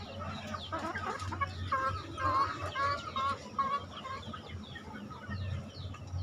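Young hens cluck steadily in a busy, continuous chorus, with soft overlapping calls and a low background hum throughout.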